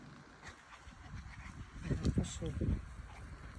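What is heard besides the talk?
small dog whimpering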